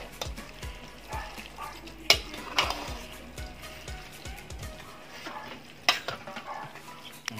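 Corned beef spaghetti being stirred in a pan, soft close sizzling with a spatula scraping and clinking against the pan in several sharp strokes, no voices.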